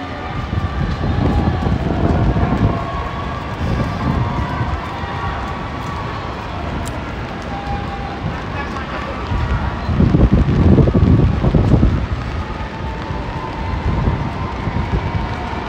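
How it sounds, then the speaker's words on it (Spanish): Continuous outdoor wash of rain and wind noise at the New York Thanksgiving Day Parade, with low rumbling gusts swelling and fading, and faint distant voices in the background. "Y la lluvia no ha parado."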